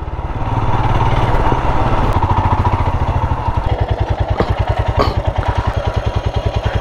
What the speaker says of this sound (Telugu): ఆఫ్ రోడ్కి తీసుకొచ్చిన బండిని ఆఫ్ రోడ్ చెక్ చేద్దామని కొంచెం